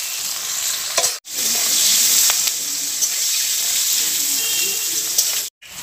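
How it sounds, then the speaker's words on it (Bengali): Vegetable stalks salted and frying in oil hiss loudly and steadily in a pan, with occasional stirring clatter and two brief cutouts to silence, while a voice talks faintly underneath. "ডাঁটাগুলোকেও কিন্তু নেড়ে চেড়ে একদম ভালো করে ভেজে নেব।"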